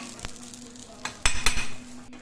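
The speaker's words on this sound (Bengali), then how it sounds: "এখন এই কড়াইতে না আমি 1 চামচ জিরে ভেজে নেব" Cumin seeds fry in a wok with a soft sizzle, broken by a few sharp clinks and scrapes of a spoon stirring against the pan.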